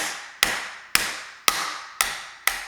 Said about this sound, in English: And then we take it and we just hammer on this side, just like this.